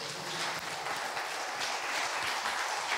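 A church congregation at a Sunday service clapping together in praise, a dense continuous wash of claps at moderate distance with no speech over it.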